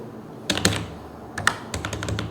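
Computer keyboard keys tapped in two short bursts of quick clicks, close and fairly crisp, with a brief pause between them and no talking.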